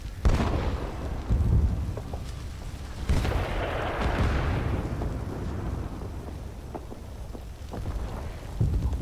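Artillery fire mission in the Vietnam-era shooter Rising Storm 2, several heavy explosions booming at close to middle distance, one big blast followed by a long rolling rumble and scattered debris, with no voices.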